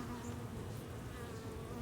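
Bees buzz frantically at mesh-covered vent holes on a hive, a steady, dense drone of many insects close by, continuous and without talk.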